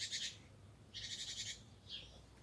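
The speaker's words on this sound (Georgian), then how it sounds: "ჩიტების ხო გესმენთ რა მაგარია" Small songbirds outdoors, sparrow-like, give three bright bursts of high chirping twitter, close and moderately loud, separated by short pauses over a low background hum, with no talking.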